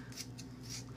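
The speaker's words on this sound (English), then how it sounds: "Why are these scissors taking so long to cut?" Paper couponing scissors cutting hair at close range, giving a soft, dull crunching snip that drags slowly rather than a clean quick cut, over a low background hum.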